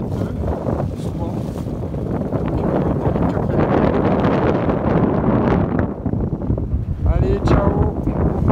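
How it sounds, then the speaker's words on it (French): Strong wind rushing past a sailboat under sail on open water, a continuous loud roar buffeting the microphone, with a voice speaking over it. "le vent est en train de baisser"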